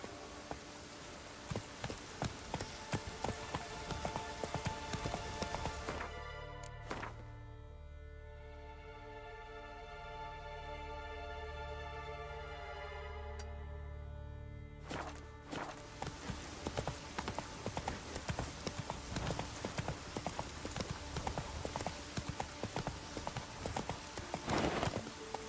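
Horse hooves clip-clop steadily as the horse Roach is ridden in The Witcher 3, with a brief quieter stretch partway through before the regular hoofbeats resume.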